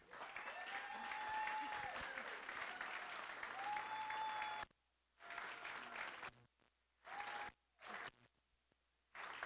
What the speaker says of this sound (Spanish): Vamos a recibir con un aplauso aún más grande a Xiomara Fortuna.